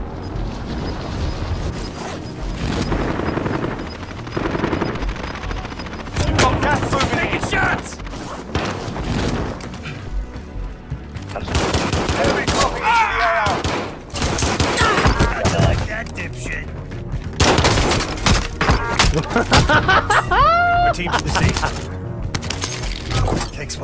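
Rapid bursts of gunfire in Call of Duty Warzone crackle repeatedly across the stretch, loud and close, mixed with mechanical clatter and people talking over the shooting.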